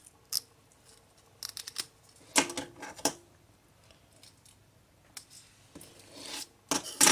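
A feather is snipped with scissors in a few quiet, separate cuts and rustles, close by, with silence between them and no voice.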